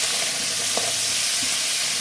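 Sea crabs frying together in a pan, a loud steady hissing sizzle throughout with a faint clink or two, no voices.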